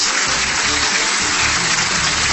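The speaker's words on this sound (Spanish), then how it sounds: "Mercedes Arauz y Martín Vizcarra se ponen de pie para aplaudir al presidente electo" A crowd applauds president-elect Pedro Pablo Kuczynski at his credentials ceremony, a loud, dense wash of clapping that runs steadily through the whole moment.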